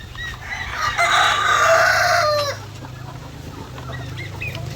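A rooster crows loudly nearby while White Leghorn hens cluck softly in the background, then the clucking continues more quietly.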